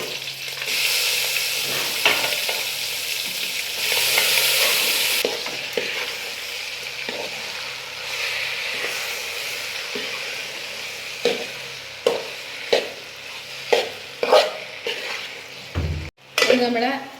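Jackfruit pieces stir-fried in a tempering of mustard seeds, urad dal, dried red chillies and curry leaves, with a steady sizzle and loud bursts of frying early on, then scraping stirs and a run of sharp spoon knocks against the pan near the end.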